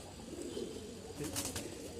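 Pigeons in an Old Dhaka (Lalbagh) pigeon loft give soft, low cooing, a few rolling coos repeated over a faint background hush.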